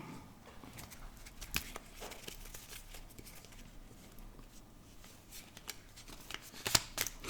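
A deck of tarot cards is cut and shuffled close by: faint, soft riffling and papery flicks with a few sharper snaps near the end, quiet and without speech.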